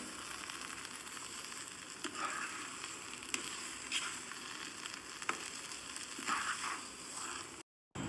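Green gram (cherupayar) cooking in a pan gives a steady close sizzle with a few scattered scrapes and clicks from stirring. No voices are heard, and it ends in a short silent gap.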